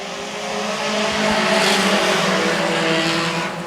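Junior sedan race cars pulling away at the start of a 20-lap championship final, a loud dense pack of engines revving and swelling as they head toward the first turn, heard from trackside.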